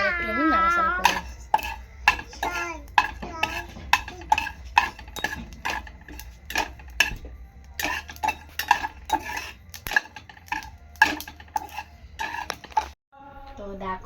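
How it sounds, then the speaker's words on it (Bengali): Dry chili and cumin being stirred in a pan with a metal utensil, a rapid irregular series of sharp clinks and scrapes close by, with a brief voice at the start and end. "এবার একটু আমি নাড়াচাড়া করে দিই।"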